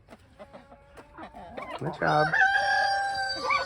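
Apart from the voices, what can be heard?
chickens clucking and rooster crowing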